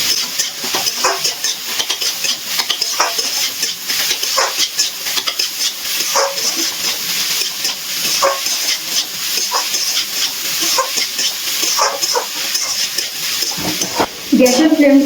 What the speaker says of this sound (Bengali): গ্যাসের ফ্লেমটা হাইতে রেখে কিছুক্ষণ একটু নাড়াচাড়া করে নিয়েছি।